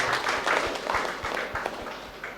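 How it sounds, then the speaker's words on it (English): A hall audience gives a warm round of applause to welcome the chief guest, a Jesuit priest, at a college magazine launch: dense, steady clapping from many hands throughout, fairly close. "we all give a big round of applause to invite our chief guest, Reverend Father Joe Antony"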